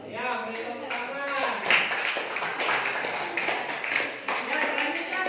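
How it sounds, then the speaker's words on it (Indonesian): A classroom group of students claps in scattered, rapid hand claps, a moderately close ripple of applause that carries on for several seconds while voices talk over it. "Ya, beri tepuk tangan."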